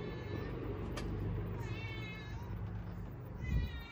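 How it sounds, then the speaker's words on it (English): Stray cat meowing close by outdoors, a few drawn-out wavering meows over a low background rumble. "Why are you meowing at me?"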